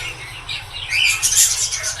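Doves in a backyard colony chirp and tweet in short bright calls while wings flap briefly, growing louder toward the end over a low background murmur.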